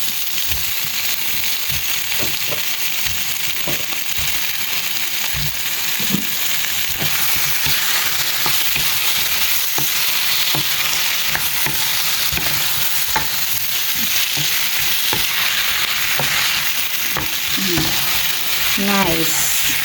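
Paneer frying and sizzling in a pan for paneer capsicum masala, a continuous crackling hiss with stirring clinks, and a brief faint voice near the end.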